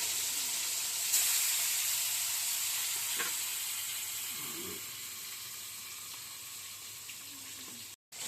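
Steady, close sizzling of pomfret frying in hot oil, a constant bright hiss that runs the whole time with a few faint clinks.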